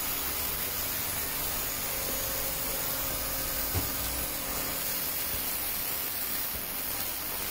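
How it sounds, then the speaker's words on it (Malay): An ultrasonic cleaning machine, heated to about 80 degrees, washes automatic transmission solenoid parts, giving a steady, dense hiss that runs unbroken from start to end with no voices. "Ini adalah mesin ultrasonic. Fungsinya untuk membersihkan bahagian-bahagian solenoid."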